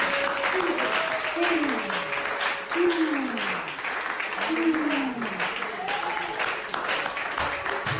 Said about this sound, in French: Et nous allons acclamer pour ça.